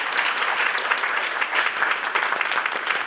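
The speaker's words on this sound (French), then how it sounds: "je voudrais qu'on remercie, qu'on applaudisse très fort Sylvie Janssen" Dense, steady applause from a conference audience at a book launch, honouring a speaker, sustained and evenly loud throughout without pause.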